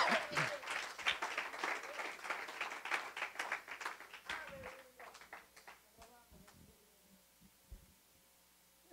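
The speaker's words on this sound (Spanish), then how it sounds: "Démosle un aplauso al Señor." A church congregation claps along, with rapid hand claps for the first few seconds that thin out and fade, while voices and a low hum linger underneath.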